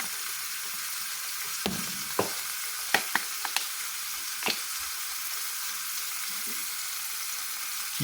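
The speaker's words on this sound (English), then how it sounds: "Looks like we're cooking ourselves a beautiful burger" A burger patty fries in a pan with a steady, close sizzle, broken by a handful of sharp pops and clicks from spattering grease or a utensil touching the pan.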